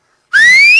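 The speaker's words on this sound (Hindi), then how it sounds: "इनबिल्ट सीटी है इनके पास" A person gives one loud, close whistle that starts after a short silence, holds a clear tone that glides steadily upward, and then stops cleanly.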